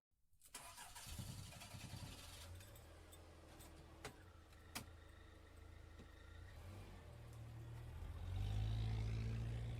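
An engine turns over and settles into a low idle inside an RPG Maker horror game, with a couple of sharp clicks partway through and the rumble growing louder near the end.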